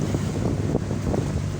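Wind roars across a microphone as waves slosh and thump against a fishing boat heading out to sea, with a low rumbling drone underneath.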